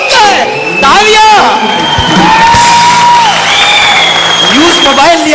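A studio audience on a Hindi game show claps and cheers loudly, with whoops and shouts rising over the applause for several seconds.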